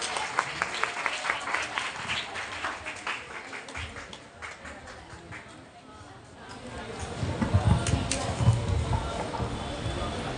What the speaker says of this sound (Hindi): जोरदार तालियों का स्वागत करिए आप लोग।